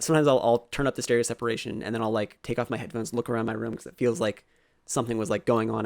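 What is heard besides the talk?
No everyday noises stand out.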